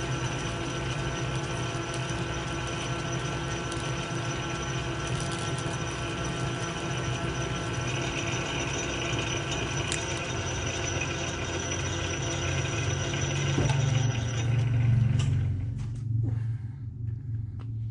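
A machine cuts a steel shaft for a Bridgeport mill power drawbar to length, grinding steadily with a mechanical ratcheting rumble that changes and fades near the end.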